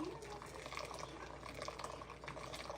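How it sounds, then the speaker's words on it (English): Hot water poured from a slight height in slow spirals over coffee grounds in a Chemex pour-over brewer, a soft continuous trickle and splash, faint and steady throughout. "Notice I'm pouring from a little bit of a height"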